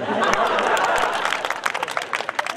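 An audience applauds at a Hindi kavi sammelan poetry gathering in Bhinmal, a dense wash of clapping that thins into scattered claps toward the end.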